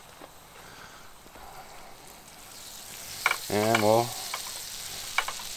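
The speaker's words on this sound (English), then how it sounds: "cook these in a little bit of butter" Morel mushrooms sizzle in a little butter in a pan, a soft steady frying hiss that swells briefly near the end, with a short spoken phrase over it.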